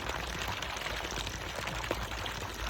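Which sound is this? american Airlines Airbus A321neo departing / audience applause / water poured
water poured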